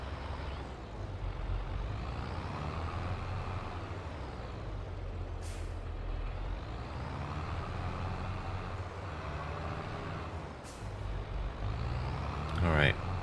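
Tractor towing a trailer over a ridge in Farming Simulator 22, a steady low engine drone running throughout with two brief hissing air-brake bursts and a short rising whine near the end, under talk.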